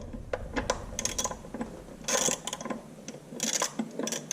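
A 9/16 inch wrench works a bolt deep inside an IHC Farmall tractor during a PTO gear and clutch throw-out bearing job, giving close, irregular metallic clicks and ratcheting scrapes with short pauses between strokes.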